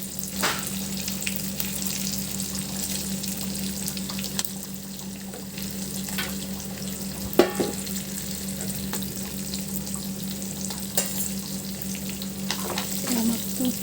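Fish frying in oil, a continuous close crackling sizzle under a steady low hum, with occasional sharper pops and a few brief clicks throughout.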